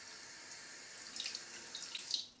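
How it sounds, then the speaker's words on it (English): Water added to hair during a natural-hair moisturizing routine gives a faint, short watery hiss with small splashy peaks near the end, close to the listener, and no one speaks. "Add a little bit of water."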